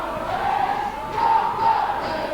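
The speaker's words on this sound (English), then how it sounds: "They are Jubilee supporters in the stand next to us, making as much noise as possible." Rugby league supporters of the Jubilee side chant and shout together in the stand at a Keighley match, a steady roaring crowd swell that rises louder midway and holds, no commentary over it.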